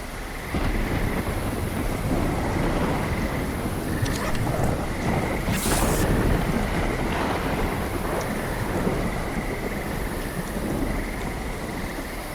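Heavy rain in the video game Project Silverfish, a loud, steady downpour hissing across the whole stretch, with faint rumbles and a few brief louder splashes, and nobody speaking.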